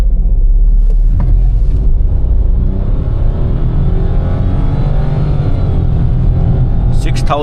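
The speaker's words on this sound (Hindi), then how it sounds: "स्पोर्ट्स मोड में मैंने गाड़ी लगा दी है and left foot on the break and right foot on the accelerator" A 2026 Nissan Magnite turbo with CVT launches hard in sports mode from a brake-and-throttle start, its engine a loud, close, sustained roar with deep rumble rising in pitch, then a sharp bright burst near the end.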